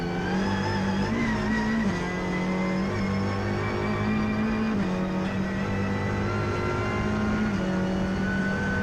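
A Ford Fiesta EcoBoost race car running on track at Oulton Park during a Britcar Trophy race, a loud continuous engine drone with shifting pitch as it accelerates and lifts, heard alone without talk.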